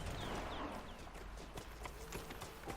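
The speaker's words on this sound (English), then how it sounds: "Puedo mandar a llamar a mi caballo si no lo tengo." Horse hooves clip-clop steadily in a video game, a continuous rhythmic patter of footfalls at moderate distance over a constant ambient background, with no speech.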